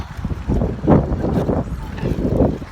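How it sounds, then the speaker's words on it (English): Wind blowing in the woods buffets the microphone in rough, pulsing gusts, a close low rumble that swells and fades in several surges over a few seconds. "It's quite windy as well"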